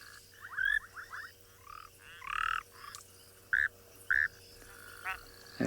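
A broad-banded grass frog calls outdoors in South Africa, giving several short, bright croaks and chirps in irregular bursts, fairly close and clear over a quiet low background hum.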